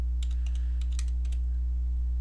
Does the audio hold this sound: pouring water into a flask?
no